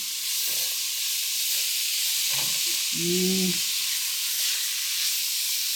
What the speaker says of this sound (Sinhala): දැන් මේක මෙහෙම කලවම් කරනවා